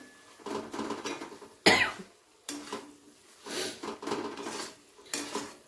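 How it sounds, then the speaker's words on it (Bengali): A spatula mashes and beats softened tomatoes in a cooking pan for bhetki fish-bone chorchori, giving repeated bursts of metallic scraping and knocking with short pauses between them and one sharp cough partway through. "এরপরে খুন্তি দিয়ে এরকম একটু ভালো করে পিটিয়ে দেবেন যাতে টমেটোগুলো একেবারে"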